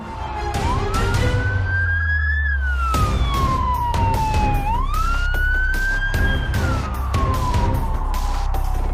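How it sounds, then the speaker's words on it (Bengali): Police car sirens wail loudly and continuously during a car chase, with the pitch sweeping up and down in long rising and falling cycles over road noise. "ট্রাফিক পুলিশ একটি গাড়ি ধাওয়া করছিল"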